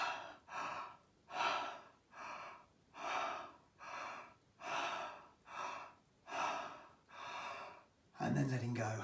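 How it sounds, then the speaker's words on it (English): Slow, deep breaths are drawn in and let out in a regular rhythm during a guided breathing exercise, about eight close, airy cycles, followed by a voice at the end. "And then we're breathing in and out."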